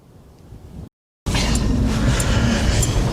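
Strong snow-bearing wind roars and buffets loudly across the whole clip after a short silent gap, with a softer rushing sound before it.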